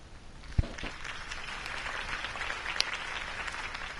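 Distant crowd applause in a Batman video game, a soft continuous patter of many hands clapping, with a couple of sharp thumps and a brief high ping.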